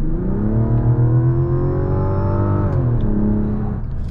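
A 2024 Mazda CX-90 Turbo S Premium Plus SUV accelerates hard from inside the cabin, a steady loud engine drone whose harmonics hold and then drop as it shifts near the end, with no talking.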